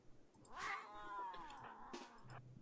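Cat in RimWorld giving a loud, drawn-out yowling meow with a second shorter cry after it, close and alone with no talk.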